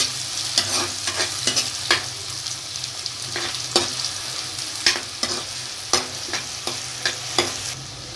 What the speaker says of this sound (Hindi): अब तेल के अंदर इसको डालेंगे। पहले प्याज को फ्राई करेंगे।